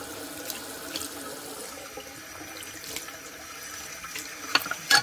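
Hot water running steadily from a tap into a sink, a soft continuous hiss with a few louder splashes near the end.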